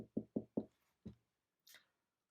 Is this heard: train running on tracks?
no